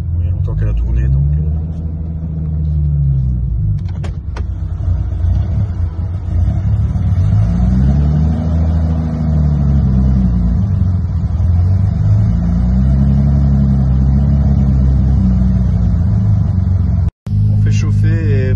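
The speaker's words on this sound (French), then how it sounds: "on fait chauffer et premier tour de roue sur la route en boîte manuelle" Nissan 300ZX engine idling and warming up after a manual gearbox swap, a steady low rumble with slow rising and falling revs across the whole stretch, close and loud, with a brief cut near the end.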